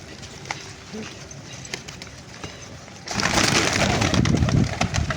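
Soft pigeon coos repeat over a noisy background that swells louder halfway through, with birds rustling close by.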